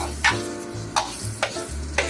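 A metal spatula scrapes a wok in four regular strokes, about one every half second, over a low sizzle while curry paste for curry chicken fries in oil; close and clear, with no talk.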